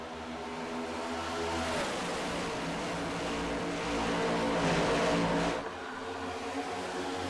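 A pack of race cars in a stock-car racing video game drives down into Turn 1 at Atlanta Motor Speedway, a continuous loud droning engine roar that swells mid-way and then drops slightly, with no talk.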